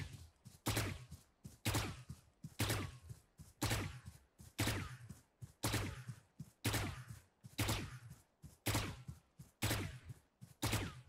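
Phantom rifle firing in Valorant, a steady sequence of about twenty-two sharp, close single shots in paired bursts, loud and evenly spaced with no talking.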